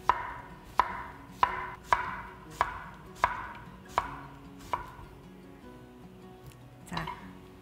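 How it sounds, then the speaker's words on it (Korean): A knife slicing a peeled cucumber into thin rounds on a cutting board, with about ten crisp, evenly spaced chops close by that fade toward the end. "이걸 동글동글하게 썰어서"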